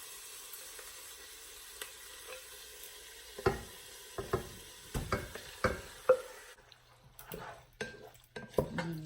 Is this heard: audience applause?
no